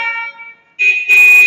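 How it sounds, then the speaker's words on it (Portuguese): A car horn blares in short bursts, a harsh tonal honk that starts, drops away briefly, then returns louder and sustained, close and loud with no talk. "Nem no trânsito, nem na aula é bom ficar escutando essa buzina."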